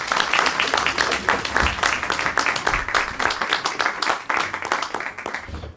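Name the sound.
audience applauding the conductor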